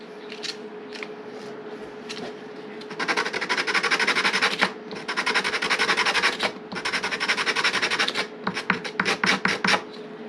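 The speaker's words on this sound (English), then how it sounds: "so let's just sand this down just a little bit and it'll fit right inside here." A part for a cemetery gate is sanded down by hand so it will fit and rotate. The rasping strokes come in short scratches, then a long, loud stretch of steady rubbing, then quick bursts, close up with no voices.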